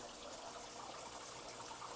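Water spills steadily down waterfalls into an 800-gallon indoor pool pond, making a continuous, even splashing gush, close and fairly quiet, with no voices.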